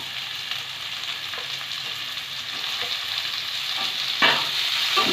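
Chopped tomatoes stirred into frying onions for a Bengali egg curry, an even, hissing sizzle that swells slightly, with soft spatula scrapes and a sharper burst near the end, no talking.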